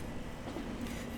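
Pendolino tilting train from Transport Fever 2 rolling along on rails, a steady continuous rumble with faint rhythmic wheel clatter and a thin tonal hum, moderately quiet and unbroken.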